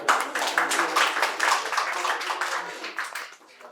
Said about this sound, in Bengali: এসো এখানে এসো, জোরে হাততালি হয়ে যাক একবার।